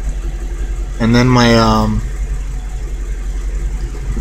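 A car engine idles with a low, steady, close drone as its RPMs drop. Someone talks briefly over the hum.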